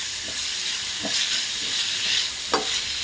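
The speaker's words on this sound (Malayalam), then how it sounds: "ഒരു ചെറിയ ടൊമാറ്റോ ആണ് എടുത്തിരിക്കുന്നത് ഇതും കൂടെ നല്ലപോലെ ഒന്ന് വഴറ്റിയെടുക്കണം" A small tomato sautéing in a hot pan for a prawn dish, a loud steady hiss of frying with a few sharp spatula scrapes spaced out through it.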